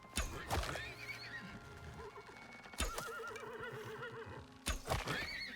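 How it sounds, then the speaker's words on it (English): Horses whinny repeatedly in the video game Icarus, with long wavering neighs close by, sharp hoof knocks and clatter breaking in at intervals, and no speech. "I don't know what the stupid horses are doing in there"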